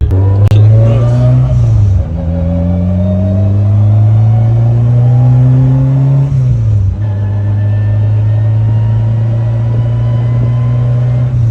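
A 500-horsepower Honda Civic on a street revs loudly and close, its engine tone climbing through two long pulls with a brief dip between them. The rumble stays strong throughout, with no voices.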